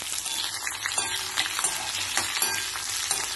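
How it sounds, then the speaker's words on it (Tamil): Mustard seeds and dried red chillies fry in hot oil for a vegetable dish, crackling and sizzling close up in a steady stream of small pops, with no talking. "கடுகு நல்லா வெடிச்ச உடனே வத்த மிளகாய்."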